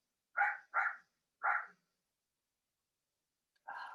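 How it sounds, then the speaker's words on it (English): A dog indoors gives three quick, fairly faint barks. After a silent gap comes one more bark with no voices in between. "Oh, she can't stop barking."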